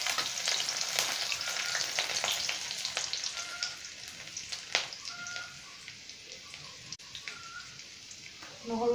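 Garlic frying in oil left over from frying fish for an Assamese fish curry, a steady bright sizzle with crackling pops that gradually quiets, and a voice talking faintly at times.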